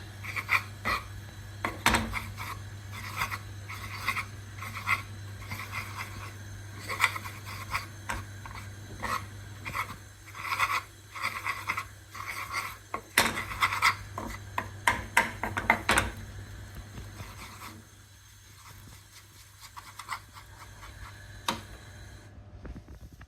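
Flour and butter are stirred as they heat in a frying pan: a steady, rhythmic scraping and rasping of the utensil against the pan goes on throughout over a low steady hum, with no talk.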